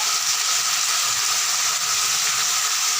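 Tomatoes and salt sauté in a hot pan for a garlic curry, giving a steady, close sizzling hiss that runs unbroken throughout.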